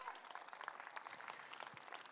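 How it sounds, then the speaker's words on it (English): Brief, fairly faint applause from an audience at a high school film festival, a steady patter of many hands clapping together throughout the short moment. "Everybody give Mr. McClurg a round of applause."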